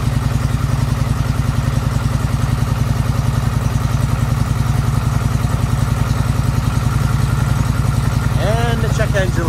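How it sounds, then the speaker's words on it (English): A Polaris Sportsman 850 ATV engine starts and runs loud and close, idling with a rapid, steady chugging pulse that continues throughout; a voice is heard briefly near the end. "Let the quad start."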